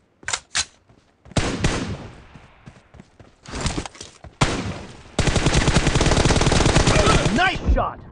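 Gunfire in PUBG Mobile: a few sharp isolated shots open, then scattered bursts, before a long loud sustained spray of rapid automatic fire right up close that cuts off at the end.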